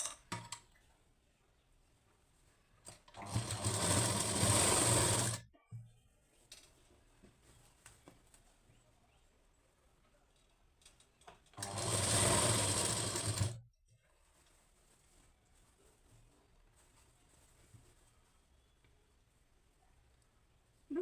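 A sewing machine stitches a lining blouse in two separate bursts of about two seconds each, with quiet pauses between them and no voices.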